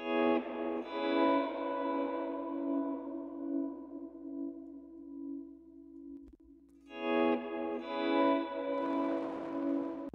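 Sustained instrument notes ring out with a bright, roomy Valhalla VintageVerb room reverb, swelling and trailing off, then a second phrase starts with the same reflective space.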